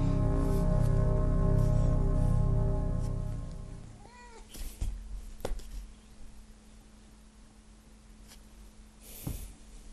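A house cat meows several times in short rising calls close to the microphone, after a loud sustained tonal hum that fades, with faint clicks and shuffling in the background.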